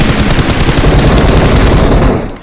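Rapid automatic gunfire in the PUBG Mobile battle royale game, loud close bursts of rattling shots for about two seconds that then cut off.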